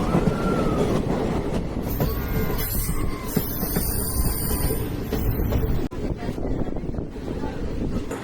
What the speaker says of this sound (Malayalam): ഇപ്പോൾ ഞാൻ നിൽക്കുന്നത് കൊല്ലം റെയിൽവേ സ്റ്റേഷനിലാണ്.